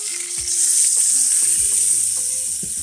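Duck breast fries skin side down in oil over medium heat, a loud steady sizzle with scattered spatters and occasional knocks of a utensil against the pan, no talking.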